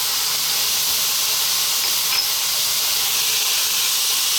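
Chopped onion and garlic sizzle loudly in a hot pan with eggplant, a steady dense frying hiss that fills the whole stretch without pause.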